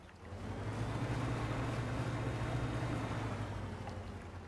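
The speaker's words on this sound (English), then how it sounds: "There's a little hum for our engine." The boat engine in the game DREDGE gives off a low, steady hum under a soft wash of water noise. It runs continuously at moderate volume with no voices.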